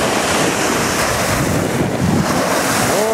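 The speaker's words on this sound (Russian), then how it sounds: "Вон как волны плещут." Black Sea waves splash on the shore at Yevpatoria in Crimea, a constant loud roar of surf with heavy wind buffeting the microphone throughout.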